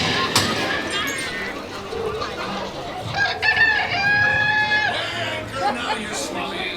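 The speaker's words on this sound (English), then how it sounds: "What may I offer for these hearty hens? Every one an egg layer!" Animatronic hens clucking and a rooster crowing in a dark ride scene on Pirates of the Caribbean at Magic Kingdom, loud and close, mixed with crowd chatter and background music.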